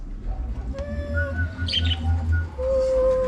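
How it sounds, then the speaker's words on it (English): Caged budgies and finches chirp and tweet in bursts, with thin whistles and a short flurry of high chatter, over a steady low background hum. "They are budgies."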